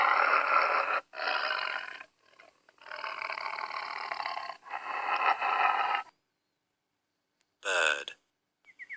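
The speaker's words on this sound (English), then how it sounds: "tiger," A tiger roars in several long, loud, rasping bursts separated by short pauses, followed by a brief spoken word near the end.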